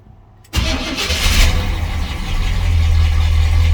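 An 1984 Chevy Squarebody truck with an Edelbrock carburetor cranks and fires up after a short quiet moment, then settles into a loud, steady idle close by, with no talking.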